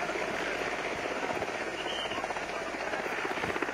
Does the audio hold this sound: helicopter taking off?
yes